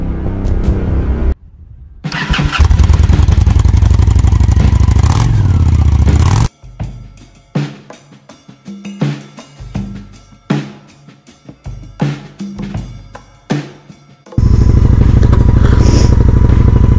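A Honda Shadow 750 ACE motorcycle rides across a front yard, with loud sustained engine roar and wind, a stretch of rough clattering and bumping, then steady engine roar again.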